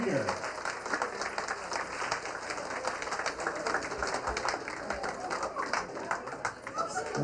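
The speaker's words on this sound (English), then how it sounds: "Let's keep that applause going for bridesmaid Helen Seow and groomsman Joseph Schimmelfinnig" Guests at a wedding reception at L'Auberge Del Mar in San Diego applaud the bridal party, sustained crowd clapping that stays dense and steady throughout, mixed with background chatter and an announcer's voice over it.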